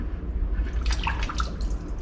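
Water gushes out of a Grundfos pump motor being installed as trapped air is purged, a close, steady splashing and dripping that runs through the whole stretch.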